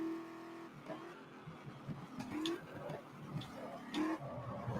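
A racing car engine in the driving game GT Legends drones and rises in pitch through gear changes at steady moderate loudness, with brief clicks over the top and no voices.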